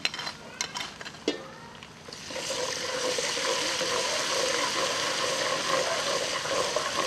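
A few light clinks and scrapes, then a steady loud sizzle of ginger garlic paste frying in a hot pan, continuing evenly without talk.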